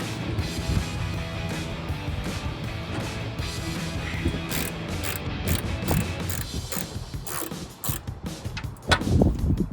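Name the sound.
ratchet with 7/32 socket removing headlight bolts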